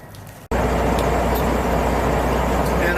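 Steady, loud truck engine drone while driving, a continuous low rumble with road noise that kicks in abruptly after a brief quieter moment and holds constant.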